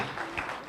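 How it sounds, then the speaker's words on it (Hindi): Brief burst of audience clapping at an Indian awards ceremony stage, a soft, even patter of many hands heard from a distance. "एक बार तालियां बजाए"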